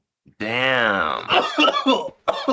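Hacking, raspy coughing right after a hit from an overflowing bong bowl at a casual smoking session, a long strained cough followed by several shorter bursts, close and loud.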